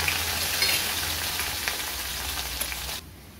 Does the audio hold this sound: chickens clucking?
no